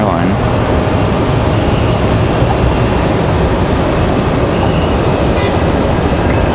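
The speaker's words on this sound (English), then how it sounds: "American 2683 coming in from Dallas. It's going to be a 737 at MAX 8." An American Airlines Boeing 737 MAX 8 arriving from Dallas at Raleigh Durham International gives a loud, continuous rumbling roar that stays dense and steady throughout, close and dominant.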